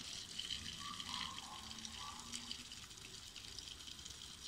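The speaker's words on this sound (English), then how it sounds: "so I'm here doing the watering" Water pours steadily from a hose or can onto potted plants in a hot, dry garden at Mammee Bay, Jamaica, a faint, soft splashing and trickling that continues without pause.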